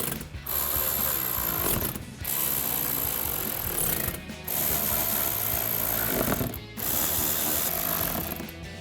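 Ratchet with a 7mm socket tightening bolts on the stainless steel billet upper grille of a 2015-2023 Dodge Challenger, heard as dense, loud bursts of rapid clicking that pause briefly between strokes.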